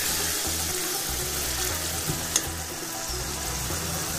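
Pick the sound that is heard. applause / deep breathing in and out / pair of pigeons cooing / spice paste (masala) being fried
spice paste (masala) being fried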